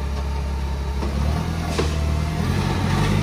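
A car engine runs loud and steady with a low rumble while pushing another car, and the pitch swells slightly as it revs, close up and with no talking.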